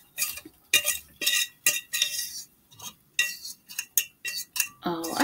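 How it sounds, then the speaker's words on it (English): Onions go into a pan with olive oil for a Dominican breakfast and are stirred, making a series of close scraping and clinking utensil strokes with short pauses between them and a brief sizzle at the end. "I'm gonna put some onions in here."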